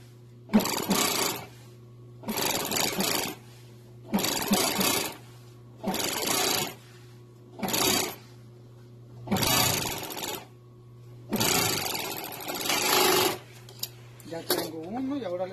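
Sewing machine stitching pieces of an upholstered boat bottom cushion cover in short, evenly spaced bursts of rapid whirring, close by, with a steady hum between runs.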